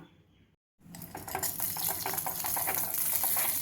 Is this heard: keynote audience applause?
no